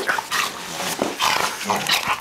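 Puppies play-fighting in a yard, giving repeated short yips, barks and whimpers in quick irregular bursts, close by and fairly loud with no talking.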